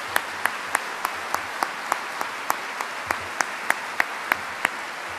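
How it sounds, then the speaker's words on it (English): An audience applauds first responders at a 2011 service-honoring ceremony: a steady wash of clapping with sharp individual claps rising at a fairly regular pace throughout. "Let's give them a round of applause."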